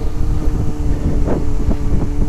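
A Kawasaki Ninja ZX25R motorcycle riding in the morning, with a continuous engine drone under heavy wind rush and a few brief revving swells.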